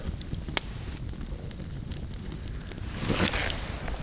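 An autumn bonfire burns in the woods, with a few sharp, isolated crackles and pops over a soft, steady hiss of flames and light wind.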